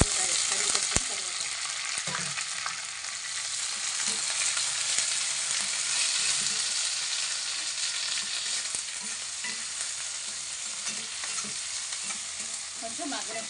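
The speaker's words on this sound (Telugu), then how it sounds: "కట్ చేసి పెట్టుకున్న ఉల్లిపాయలు వేసుకున్నాం. దాంట్లోనే కొంచెం కరివేపాకు పెట్టుకుని" Chopped onions and curry leaves fry in hot oil, a steady bright sizzle running throughout with occasional scrapes and clicks of stirring, no voices.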